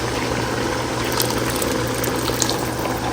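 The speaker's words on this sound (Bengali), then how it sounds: "আমার আন্দাজ মতো গরম পানি চলে যাবে" Hot water poured steadily into a pot of biryani, a continuous close rushing stream with no pauses.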